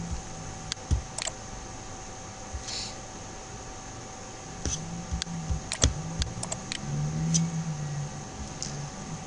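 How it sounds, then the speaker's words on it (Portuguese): Scattered keystrokes on a computer keyboard, a few sharp clicks then a faster cluster, fairly close over a low steady hum, with no speech. "Vou tentar digitar um aqui"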